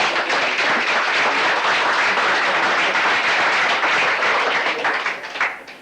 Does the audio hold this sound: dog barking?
no